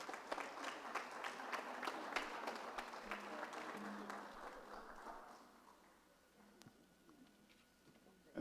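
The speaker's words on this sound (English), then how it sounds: "give them a big round of applause" Audience applause at a school board of education meeting, a steady wash of clapping from a room of people that fades away over the last few seconds, with faint voices in the background.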